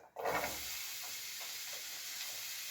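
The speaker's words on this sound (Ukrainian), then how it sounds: "налью трішки олійки, сковорідка вже нагрілась. І буду вилужувати сюди заразом я і цибульку" Onion frying in a little oil in a preheated pan, a steady close sizzle and hiss that starts abruptly and holds constant throughout.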